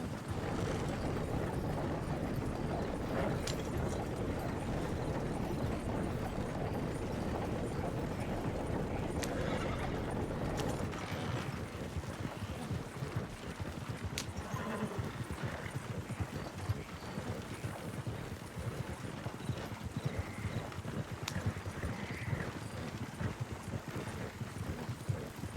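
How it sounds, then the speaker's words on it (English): A horse-drawn wagon rolls along in a video game, hooves clip-clopping steadily over a continuous rumble of wheels, with an occasional whinny from the horse. "I like driving a wagon around"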